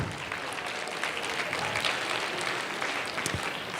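A comedy show crowd breaks into sustained applause, a steady dense patter of many hands at moderate volume with a few louder nearby claps and faint crowd murmur underneath.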